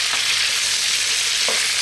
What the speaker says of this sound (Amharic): ሽንኩርታችንን አብረን እንጠብሳለን።